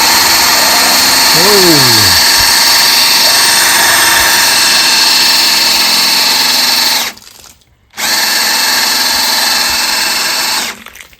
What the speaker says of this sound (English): Let's run the drill and see if water comes out.